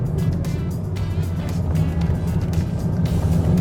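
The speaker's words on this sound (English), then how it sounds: "Immediately the revs rise." A 2020 Honda Accord 1.5 turbo engine in sport mode after a downshift hums steadily and loudly with a low throbbing drone, revs holding high throughout without a break.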